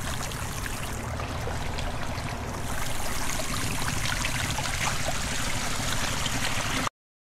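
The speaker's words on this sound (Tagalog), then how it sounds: "Ito yung nagbibigay ng tubig para sa mga tanim ng mga gulay." Water runs steadily along an irrigation channel beside a farm market road that feeds vegetable plots. It makes a continuous, loud, close rushing and gurgling with no pauses or speech, then cuts off abruptly.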